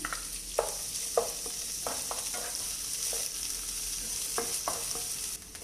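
Chopped onion and fennel seeds fry in a little oil for chicken cutlets, a steady close sizzle with sharp spatula knocks against the pan at irregular intervals and no talking.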